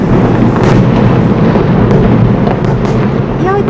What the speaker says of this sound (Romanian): Ia uite ce de artificii